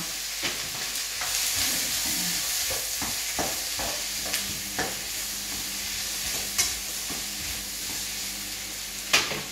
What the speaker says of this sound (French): s'il faut laisser mijoter 5 minutes, on remue